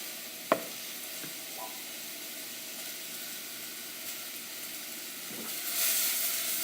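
Mushrooms fry in melted butter in a pan with a soft, steady sizzle, one sharp clink near the start, and a brief swell of hiss toward the end.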